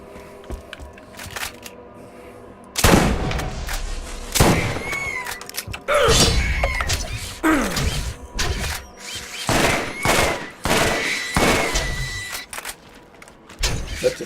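Automated turrets fire in bursts in Borderlands 1 in the Arid Badlands, a rapid run of sharp gunshots with booming impacts that keeps going through most of the stretch, loud and close.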